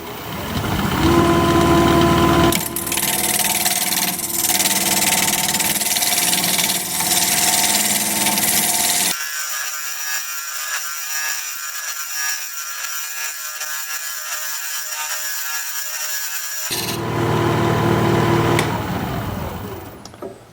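A wood lathe spinning at 1150 RPM while a number 1 carbide hollower cuts into a pedestal blank, giving a loud, continuous rough scraping roar with a steady motor whine, broken by a quieter stretch midway.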